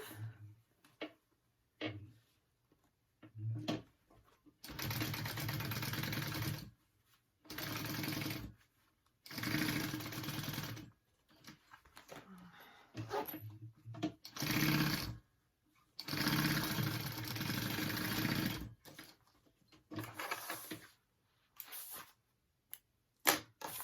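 A sewing machine stitching fabric for a sling backpack, running in several sustained whirring bursts of a few seconds each, separated by short pauses and small handling noises.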